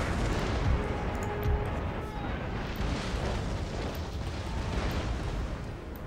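Artillery fire in the video game Empire Total War, a dense rumbling barrage of distant booms and bursts layered over each other in a continuous low roar, with no speech.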